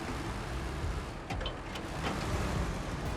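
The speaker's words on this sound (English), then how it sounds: "Oh, turn off the engine. I don't need your engine on." A heavy truck idling in SnowRunner on the Kola Peninsula, a steady low diesel drone with a few brief mechanical clicks and whirs over it, continuous and moderately loud.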